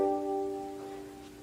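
Chord strummed once on a small stringed instrument, likely a ukulele, ringing with a bright attack and then decaying gradually, faint and close.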